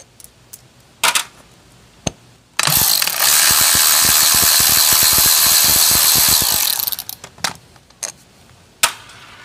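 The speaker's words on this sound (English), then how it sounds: "So now taking out these spring screws here, the screws that have the springs that compress" Rapid ratchet clicking runs steadily for about four seconds while clutch spring screws come out of a Honda CX500 motorcycle, framed by a few sharp isolated clicks and taps of tools before and after.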